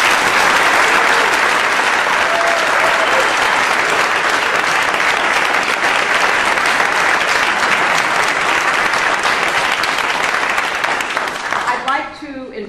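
Sustained, dense applause from an audience honoring Praemium Imperiale award laureates at a formal ceremony, loud and steady for about twelve seconds before thinning out at the end.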